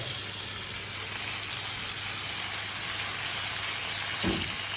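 An egg frying in a pan in a home kitchen, a steady hiss and crackle of sizzling oil held at an even level throughout, with one brief soft knock near the end.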